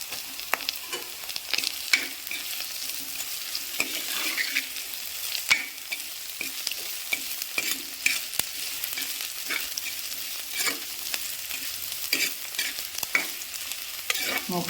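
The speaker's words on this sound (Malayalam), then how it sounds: "പച്ചമുളകും സവാള എല്ലാം കൂടെ ഒന്ന് മൂക്കട്ടെ" Onions and green chilies fry in a pan for a coconut-milk fish curry, giving a soft continuous sizzle broken by frequent scraping stirs of a utensil, fairly quiet with no talking.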